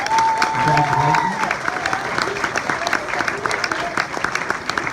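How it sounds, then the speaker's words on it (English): Applause from a crowd giving a round for a person, steady dense clapping through the whole stretch with a voice briefly speaking over it near the start. "So I take this time to request a round of applause"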